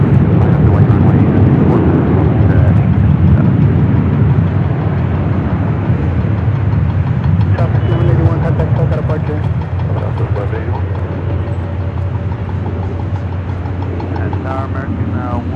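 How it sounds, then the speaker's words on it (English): A WestJet Boeing 737 MAX 8 arriving at Los Angeles International Airport, a loud, steady low engine roar that fills the whole stretch and eases slightly toward the end, while a person talks over it. "WestJet Flight 1422 coming in from Edmonton,"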